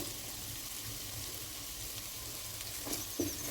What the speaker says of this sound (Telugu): టమాటా పీసెస్ యాడ్ చేస్తున్నాను